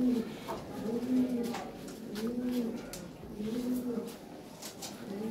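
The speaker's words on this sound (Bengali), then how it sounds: "বিশাল সাইজের কবুতর।" Large fancy Lahori pigeons, including a blue barless pair, coo in a steady repeating rhythm close by. Each soft, throaty phrase rises and falls about four times, with faint background noise.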